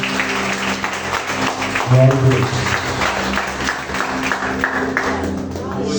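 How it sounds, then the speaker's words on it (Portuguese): Church congregation clapping during worship, steady rhythmic handclaps from many people under a voice and sustained instrumental music, fairly loud throughout. "Exalte o Senhor com as palmas"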